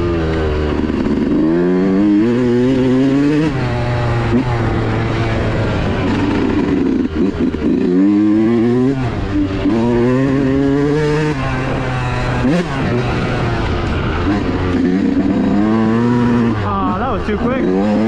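A Yamaha YZ125 two-stroke dirt bike ridden on a trail, its engine loud and close throughout, repeatedly revving up and dropping off as the rider shifts and accelerates, with a rider talking at times over the engine.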